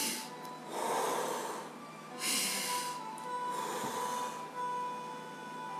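Deep, slow breaths fill the space, three long airy inhales and exhales rising and fading in turn, close and alone with no talking.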